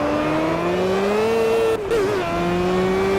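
A Formula Gulf 1000 race car in Project CARS accelerates hard out of a corner, its engine note climbing steadily and loud, with a brief gear-change dip midway before revving on.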